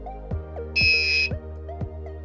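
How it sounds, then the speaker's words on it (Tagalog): A homemade 2-in-1 timer gives one loud, high electronic beep lasting about half a second, set over a steady low electrical hum and a run of regular soft clicks. "ito yung ginawa natin 2-in-1 timer"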